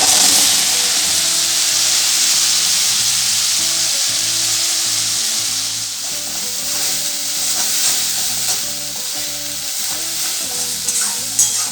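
Ginger, garlic and chili paste fries in leftover fish oil in a pan for prawn cutlets, giving a constant close sizzle and hiss with stirring scrapes throughout, no voices.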